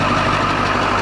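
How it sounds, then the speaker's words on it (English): A Ford 7.3-liter Power Stroke diesel truck engine idles close by with a steady, loud, rumbling clatter and no voices over it. "I just love the way diesel sound."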